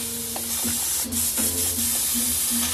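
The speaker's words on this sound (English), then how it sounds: "just gonna spray some water through and then back flush that paint." A close, steady airbrush hiss sprays water continuously to clean out paint, with a few short clicks and a faint low hum underneath.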